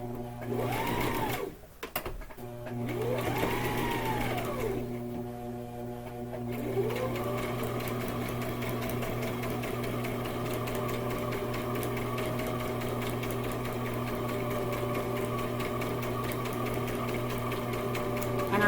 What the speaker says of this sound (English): Sew and backstitch.